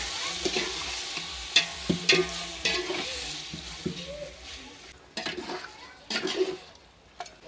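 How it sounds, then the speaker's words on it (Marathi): A spoon scrapes and stirs through chicken in a pan with repeated clanks on a wood-fired stove, while a soft sizzle of frying continues underneath. "हे आपण आता हलवूया"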